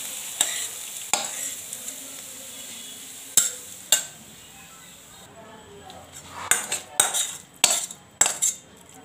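Shrimp and bottle gourd curry stirred in a pan, a spoon clinking and scraping against the metal in sharp, irregular strikes over a soft background sizzle, close and fairly loud, with no talk.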